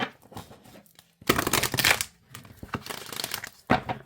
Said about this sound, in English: I like shuffling side by side with bigger cards like this.